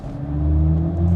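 A BMW i4 M50 electric car accelerating in sport mode, a steady rising electric motor whir with low road rumble inside the cabin, continuous and fairly loud.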